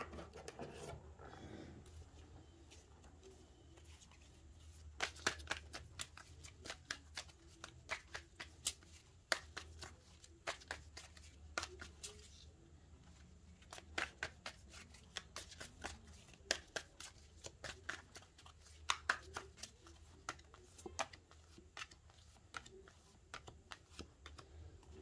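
Tarot cards shuffled by hand in a quiet room, giving a long run of brisk, close riffling flicks and soft slaps that come in clustered bursts over low background hum, with no talking.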